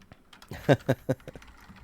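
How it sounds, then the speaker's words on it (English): Someone types on a computer keyboard, producing a brief run of three or four crisp key taps close by in a quiet room. "That sound of typing is me writing Monster in My Pocket Halloween game."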